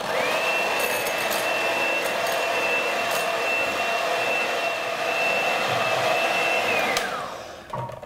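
Electric mixer beating egg whites with a pinch of salt, a loud steady whining whir that holds for about seven seconds, then winds down and stops with a few faint clatters.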